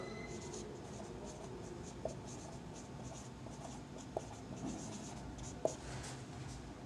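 A pen writes out a maths surface-area solution, producing faint continuous scratching strokes on paper with a few light taps, close and quiet, with no talking.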